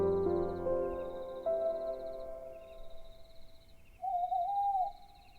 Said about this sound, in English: Estolia woke to the sound of an owl hooting